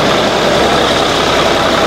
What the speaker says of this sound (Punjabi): ਲੋ ਜੀ ਦੋਸਤੋ ਇਹ ਟਰੈਕਟਰ ਆ ਜੀ ਮੁਕਾਬਲੇ ਦੇ ਵਿੱਚ ਖੇਡਣ ਵਾਲਾ